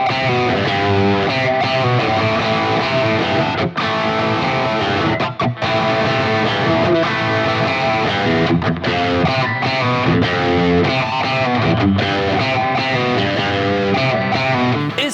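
Fender American Vintage II '61 Stratocaster electric guitar played loud and continuous with distortion, a dense run of chords and notes with no talk.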